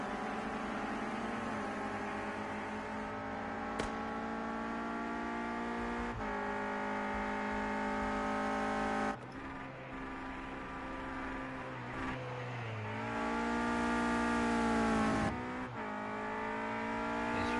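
A Renault Clio Cup race car engine screams on track at Snetterton, pushed hard through the gears with steady high revs, sharp shift breaks and rising pulls, loud and alone with no talk.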